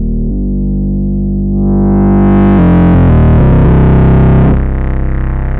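Moog Messenger synthesizer played with the filter feedback dial turned up, a loud, gritty, distorted sustained tone that brightens and swells, then shifts pitch in stepped notes before settling, alone.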